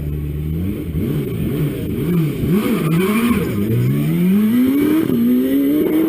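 A hill climb race car launches and accelerates hard at Gurston Down, its engine rising through several gear changes, loud and close.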